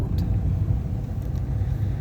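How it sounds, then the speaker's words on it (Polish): A car's engine rumbles steadily and close by, a continuous low droning hum with no voices over it. "I samochód."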